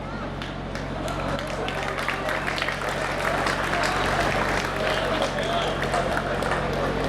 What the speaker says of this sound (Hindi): तालियां कम है हालांकि आपकी